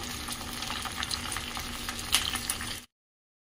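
Spices and curry leaves sizzle and crackle steadily in hot oil for a tempering, a close, busy frying hiss that cuts off abruptly into silence.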